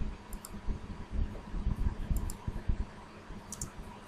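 A computer mouse clicks a few times, quick faint taps heard in small clusters over a low background murmur.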